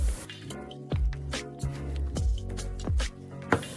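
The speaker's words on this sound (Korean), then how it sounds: "잘게 자른 호두와 초콜릿 150g을 반죽에 넣고 스파츌라로 섞어줄 거예요" A spatula folds chopped walnuts and chocolate into thick cookie batter, making wet squelching and sticky slaps at a slow, uneven rhythm, close up.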